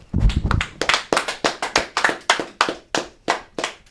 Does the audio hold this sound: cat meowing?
no